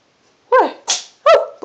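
Shawn, a rescue cat, lets out a quick series of sharp little sneezes, three or four close bursts in under two seconds, loud and near against silence.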